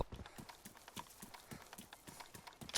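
Footsteps approach in the DayZ video game as a quick, regular patter of faint, soft thuds that continues steadily throughout.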